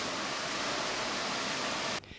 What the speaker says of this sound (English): Looking through the waterfall.